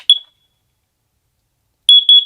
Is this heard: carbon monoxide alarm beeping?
yes